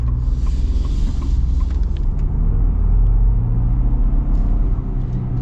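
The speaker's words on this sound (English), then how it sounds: "get our acceleration here with the Ford" 2024 Ford F-150 Tremor pickup accelerating, a deep engine rumble that holds steady and builds slightly in the middle before easing, heard close with no talking.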